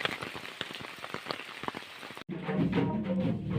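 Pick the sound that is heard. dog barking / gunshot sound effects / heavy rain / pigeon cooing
heavy rain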